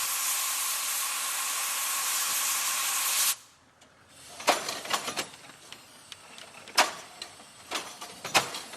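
Steam hisses from a replica Cugnot fardier steam wagon, a loud, steady broadband rush for about three seconds that cuts off abruptly, followed by quieter clanks and sharp knocks.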